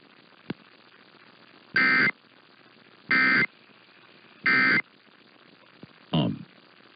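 A weekly Emergency Alert System test covering Arizona sounds as a short buzzing data tone. It comes in three evenly spaced loud bursts, followed by a fourth, shorter burst that trails off, with no talk over it.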